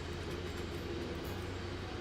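A train in the Infinite Rails game gives off a steady, low rumbling drone with rail hum, constant and even in level throughout, with no talk.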